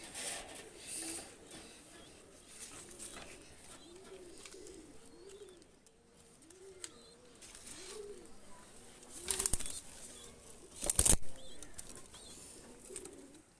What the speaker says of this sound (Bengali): দুটা কবুতর আমি ছেড়ে দেখাচ্ছি